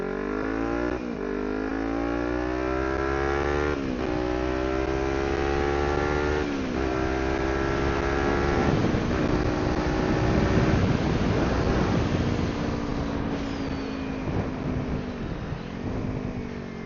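A Kawasaki Ninja 300 with a slipper clutch is ridden, its engine revving steadily and rising in pitch through several gear changes, with brief dips between shifts, loud and continuous throughout.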